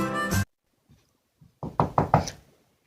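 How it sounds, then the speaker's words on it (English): Knocking on a door: four quick, sharp raps in a tight cluster, close and loud, after a brief vocal sound and a couple of faint thumps. "There's a knock on the door."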